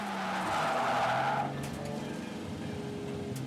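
A drift car at the Sosnova circuit in the Czech Republic skids through a corner, a loud sustained tire screech with engine roar that eases after a second and a half, then a lower engine drone.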